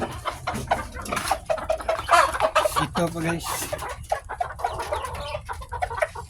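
Several chickens cluck and squawk busily up close as they are fed, with scattered short calls and someone speaking briefly amid the flock.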